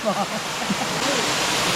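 Saeng Chan waterfall, also called Long Ru waterfall, pours in a steady broadband rush nearby, with someone speaking briefly at the start.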